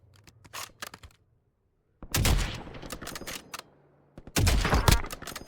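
Rapid gunfire from the video game Warzone comes in three bursts: a brief rattle of shots, then two longer, loud automatic volleys separated by near silence.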